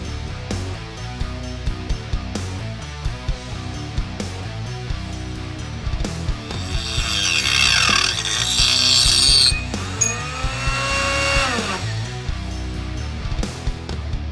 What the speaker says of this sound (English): I think this Dremel is just a little bit underpowered because it was bogging down